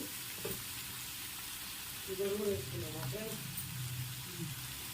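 Masala chicken fry with cumin and coriander leaves sizzling steadily in a pan, a soft continuous hiss with light stirring scrapes and faint background voices.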